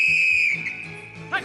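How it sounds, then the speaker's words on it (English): A sharp referee's whistle shrills loud and steady for about half a second in a cartoon game, followed by a short second chirp near the end, with no talk over it. "And when the rat blows his whistle, you blow your top."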